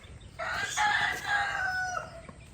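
A rooster crows once before dawn around 5:30, a loud drawn-out cock-a-doodle-doo rising and falling, heard fairly close in a quiet setting.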